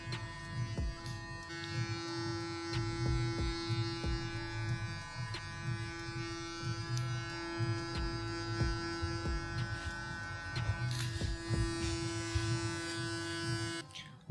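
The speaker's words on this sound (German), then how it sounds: "arbeiten uns Schritt für Schritt nach unten hin vor und schließen den Scherkopf, je tiefer wir gehen, immer eine Stufe niedriger" Electric hair clipper buzzing steadily and close while cutting a man's hair for a French crop at a barber, the motor's hum continuous with slight changes as it moves through the hair.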